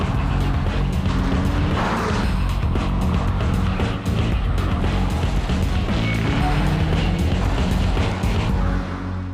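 Volvo S60R and V70R all-wheel-drive cars driving, a sedan and an estate, with a steady loud engine roar and road noise, brief tire sounds, continuous and close throughout.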